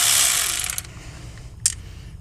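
Electric ratchet working a brake bolt on an Acura TLX rear wheel: a close whirring buzz that fades out, followed by a couple of brief metallic clicks.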